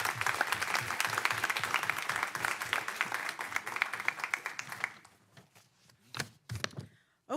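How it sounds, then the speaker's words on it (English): Audience applause at a city council meeting, a steady burst of clapping for about five seconds that stops abruptly, followed by a few isolated claps and room noise. "let's give them a big round of applause one more time"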